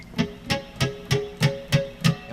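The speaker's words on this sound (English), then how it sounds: "and with the flanger on it'll sound like this." Electric guitar chords strummed with a flanger effect in standard tuning, seven evenly spaced strokes ringing out alone with a sweeping, whooshing shimmer on each hit.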